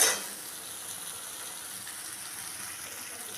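Pointed gourd and shrimp mash with whole garlic cloves sautés in a pan, a steady close sizzling hiss after a brief opening knock.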